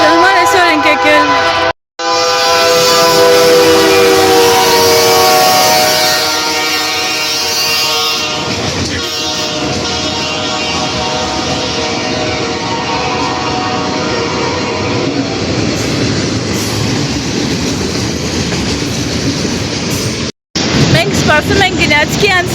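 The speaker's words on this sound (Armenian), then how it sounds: "Սպասում ենք գնացքի անցնելու" A train rumbles past at close range for about twenty seconds, loud and continuous, with a sustained horn blast early on and rattling wagons, broken by two brief dropouts.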